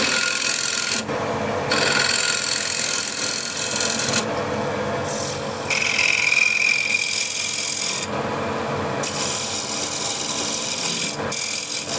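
Shear scraper cutting the bottom of a wooden bowl on a lathe, bursts of bright rasping scrape broken by brief pauses, close and fairly loud, no talk.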